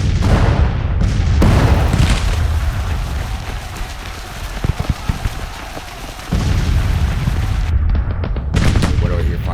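Scattered musket and rifle fire from Civil War skirmishers in Grand Tactician, a dense crackling of distant shots and rumbling booms that swells, thins in the middle, then builds again.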